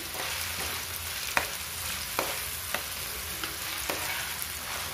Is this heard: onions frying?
yes